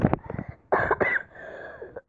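Several short, harsh coughs from a person with a cold, in quick bursts, close to the mic, separated by brief pauses.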